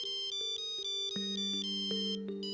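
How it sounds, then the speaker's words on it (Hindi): A phone ringtone for an incoming call, a bright electronic melody of repeating tones playing continuously at moderate volume, with no talk. "आबा का फोन इतने सुबह सुबह?"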